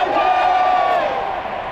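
A large stadium crowd at a baseball game chanting in unison, one sustained loud massed shout that slowly fades.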